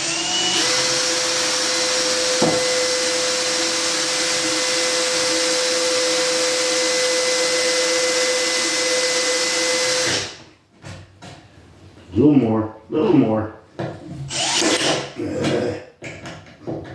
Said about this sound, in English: put my drill on the slow speed